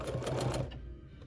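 A Bernina sewing machine stitching backwards along quilt binding, a rapid even mechanical whir at close range that fades out after about half a second.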